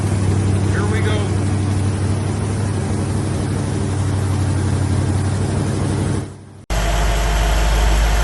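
Rebuilt Chevy 283 V8 running during break-in, a loud steady engine drone with a low rumbling pulse, briefly cutting out before resuming, with voice-like sound under it.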